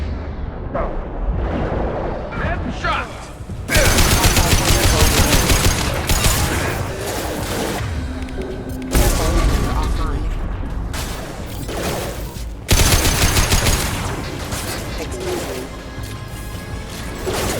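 Gunfire in the video game Mass Effect 2, with loud bursts of rapid shots in three sustained volleys broken by brief lulls, plus crashes and a voice speaking between them.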